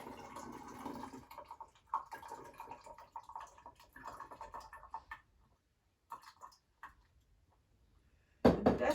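Water poured in short, quiet bursts into a measuring container to top it up by 100, each trickle broken by pauses of near silence, ending in a louder splash.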